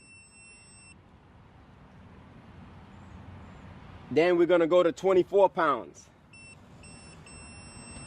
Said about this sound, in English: As you can hear that beep on that last beep, you know that it's done.